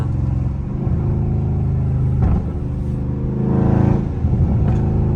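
A loud Scat Pack car engine rumbles and revs with a deep throaty exhaust, swelling twice over a steady idle and reverberating as if in an enclosed space.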